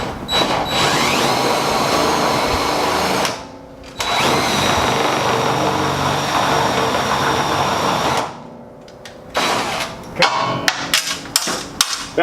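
A power drill drives a self-tapping screw through steel while installing a hard-wired shade head-box: loud, grinding, whirring runs cut by two brief pauses, then choppy bursts and clanks at the end, close up with no talk.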